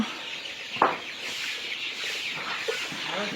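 Broiler chickens raised for meat cluck in a poultry house holding about two thousand birds; a dense, continuous flock murmur with a few sharper calls standing out.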